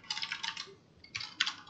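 Quick bursts of keystrokes tap on a computer keyboard, close and crisp, in two short runs with a brief pause between them and no talking.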